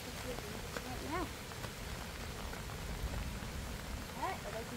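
Rain falling steadily on a surface, a soft continuous patter heard throughout with faint voices now and then in the background.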